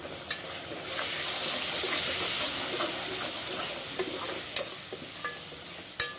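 Whole cumin seeds fry in a pan for a chicken and broad bean curry, giving a steady close sizzle with light crackles and a couple of sharp clicks from stirring, no voices.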